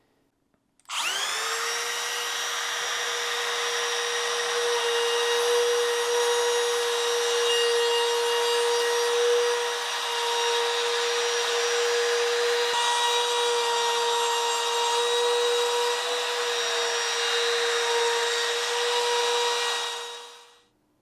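A router cuts steadily into a foam surfboard blank to make a fin box recess, giving one loud, continuous whine that starts abruptly and runs for about twenty seconds before it stops, with no talking.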